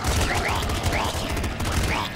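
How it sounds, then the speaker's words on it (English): Rapid gunfire in the video game Nuclear Throne, with shots bouncing off walls, a dense rattling stream of loud synthetic blasts with chirpy ricochet tones, and no pause. "I like that these shots bounce."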